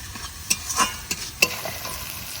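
Onion fried with green and dried chili paste sizzles in a pan as a utensil stirs and scrapes, giving a steady hiss broken by a few clear, close clinks.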